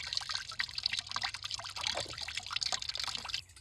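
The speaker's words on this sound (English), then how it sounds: "Funnel juice from the bucket into the carboy." Fresh apple juice from a cider press poured and trickling in a steady splashing stream, close and continuous with no talk.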